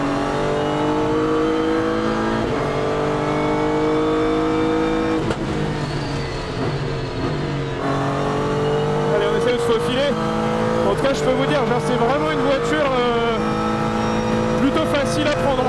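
A Renault RS01 race car laps a track-day circuit, its engine rising and falling through gear changes with loud revving pulls, brief lifts and squealing tire noise, steady and close throughout while a voice speaks over it.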